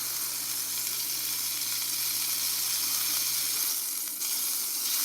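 Steak searing in a cast-iron pan, a steady close sizzle that stays loud and even throughout with no talking.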